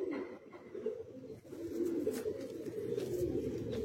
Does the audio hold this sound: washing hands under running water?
no